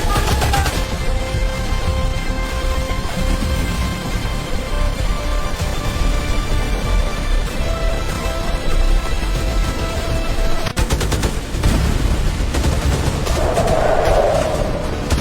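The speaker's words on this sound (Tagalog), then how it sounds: "RPG at machine gun!" Machine gun fire with gunshots in a comedic skit scene, a dense, loud, continuous barrage of rapid bursts running throughout with no talk over it.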